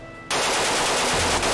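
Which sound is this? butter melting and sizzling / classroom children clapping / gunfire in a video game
gunfire in a video game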